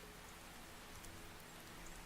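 Steady rain in the video game Seduce Me, a continuous broadband hiss of falling drops with no pauses, fairly quiet and alone without voices.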